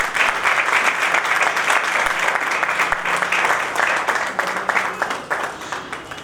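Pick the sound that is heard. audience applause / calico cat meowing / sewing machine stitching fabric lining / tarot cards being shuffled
audience applause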